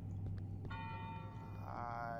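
A bell rings out in the horror game Cry of Fear, a clear struck tone sustaining for over a second, followed by a second softer ring, above a low ambient drone.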